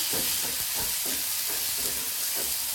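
Okra tipped into a pan of softened tomatoes and frying, a close, steady hiss and sizzle with soft stirring scrapes running throughout, no voices.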